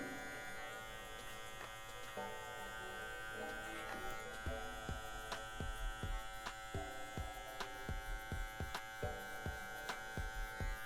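Electric hair clipper fading hair with a half-length guard comb, a steady close buzzing hum broken by short repeated strokes and ticks as the blade passes through the hair, with no talking.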